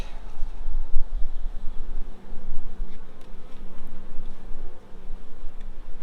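A dense, steady buzz of many honey bees around a hive fills the air close by, with a low rumble underneath and no voices.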